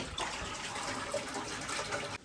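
Water pours steadily from a clay pot in a village home, a continuous close splashing gush lasting about two seconds before stopping abruptly.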